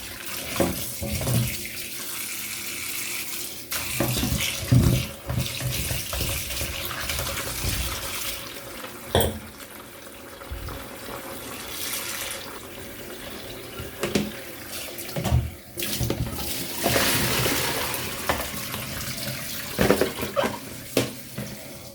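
Tap water runs into a sink as an old cucumber is washed for Chinese pork soup, a continuous close splashing hiss broken by thumps and handling noises as the vegetable is rubbed under the stream.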